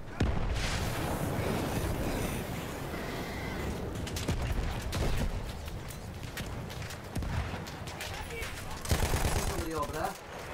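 Sustained gunfire in the Battlefield 1 video game, with rapid bursts, heavy booms and repeated rifle cracks running throughout. The battle noise stays loud and dense, and a voice speaks beneath it at times.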